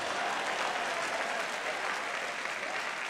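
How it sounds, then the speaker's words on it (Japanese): Audience applause at a Guilty Gear XX fighting game tournament event, a steady dense clapping from a crowd filling the whole moment without pause, moderately loud and even throughout. "以上で拍手をお願いします。"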